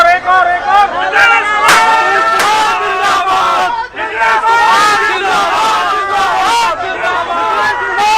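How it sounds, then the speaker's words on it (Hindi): Rapid strings of sharp firecracker pops crackle beneath a loud, cheering crowd celebrating Bihar election results outside a JDU party office, with shouting and whistling voices throughout. "पटाखों की आवाज सुनाई दे रही है"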